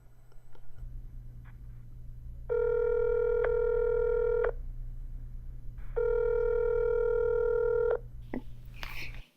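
A telephone call connecting: two long ringing tones, each about two seconds, sound over a steady low line hum, with a brief click near the end.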